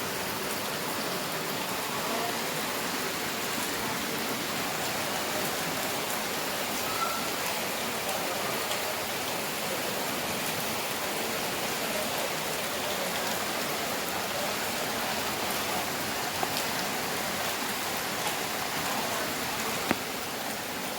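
Heavy rain pouring down in Hyderabad, a dense, steady hiss of drops hitting surfaces that holds constant without a break.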